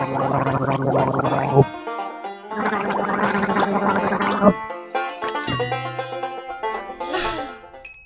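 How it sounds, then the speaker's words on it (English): A cartoon gargling effect from the Endless Numbers kids' counting app: two loud, bubbly gurgling bursts of about two seconds each, separated by a short gap, then bright chiming musical tones and a sparkly flourish, with no talking. "When you gargle, you rinse your mouth and throat and then spit."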